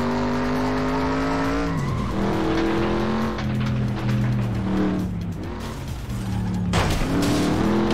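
In the racing game FlatOut 2, a race car engine howls and rises in pitch through gear changes, with tires squealing and skidding in loud bursts as the car slides through corners.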